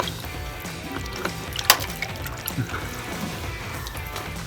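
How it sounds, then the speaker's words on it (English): Water trickles and dribbles out of a Samsung/LG front-load washing machine's drain pump clean-out, a faint continuous splashing with a few sharp clicks and knocks over it, no talking. "It's already starting to trickle out."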